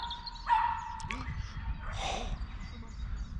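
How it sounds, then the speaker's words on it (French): A pitbull barks and whimpers close by, with short yips and a whine amid ongoing outdoor activity and people talking over it. "Oh, il y a un pitbull."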